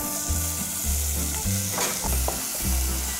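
Black pepper sauce stir-frying in olive oil in a hot pan, giving a loud, steady sizzle with stirring scrapes and low tonal sound underneath throughout.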